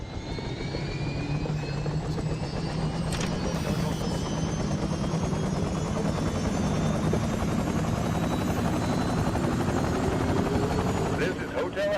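A helicopter engine idles in a Mars training video game, giving off a loud, steady droning whine with a rotor buzz. It runs unbroken throughout the clip and is close up.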